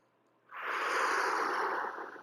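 One long, deep breath drawn during an abdominal stretch, a soft airy rush that starts abruptly and holds steady for under two seconds, close and quiet, with no talking.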